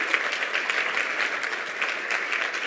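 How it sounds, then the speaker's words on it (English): Conference attendees at a Palm Springs real estate gathering give sustained, even applause throughout, a dense wash of many hands clapping at moderate distance with no voices standing out. "Give yourselves a round of applause for wearing pants in the desert."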